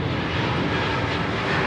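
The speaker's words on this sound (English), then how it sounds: "Runway 16 right, cleared immediate takeoff." An airliner takes off from runway 16 right at Sydney Airport, a loud continuous engine roar filling the whole clip.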